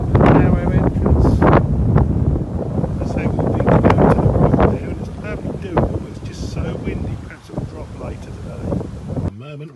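Strong storm wind by the Great Ouse at Godmanchester roars and buffets the microphone in heavy, continuous gusts, loud throughout and easing slightly toward the end.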